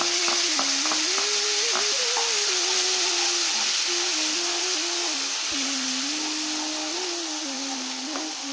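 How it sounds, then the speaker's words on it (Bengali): Ginger-tomato paste frying in a hot pan for a navratan korma, a steady close sizzle with light stirring scrapes, running continuously and easing slightly toward the end. "টমেটোটা যে বেটে রেখেছিলাম, আদা টমেটোর পেস্টটা দিয়ে দেব"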